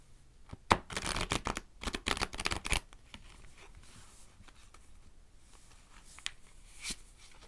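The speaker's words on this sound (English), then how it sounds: "Maybe I'll try one riffle shuffle, just for the heck of it." Tarot cards are riffle shuffled in a quick fluttering burst, followed by softer tapping and squaring of the deck, close by.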